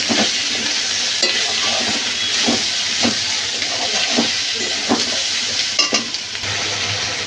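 Spices being stirred and sautéed in hot oil for a desi tangra fish curry, a steady bright sizzle and hiss with repeated spoon scrapes against the pan throughout.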